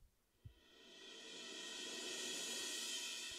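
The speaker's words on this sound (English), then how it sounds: "and an orchestral crash transition," An orchestral crash transition effect swells from near silence into a broad, hissing wash that grows steadily louder and brighter, then sustains.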